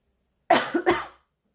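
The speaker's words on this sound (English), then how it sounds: "I apologize for the coughing, but it's just a dry throat" A short burst of two dry coughs from a person with a dry throat, close and fairly loud, isolated against silence.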